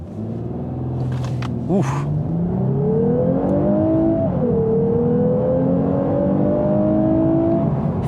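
A Lexus RC 350 F-Sport V6 coupe launches hard from a brake-torque start, the engine note climbing steadily through the revs with a brief shift dip midway, loud and close inside the cabin, with one short exclamation from a voice.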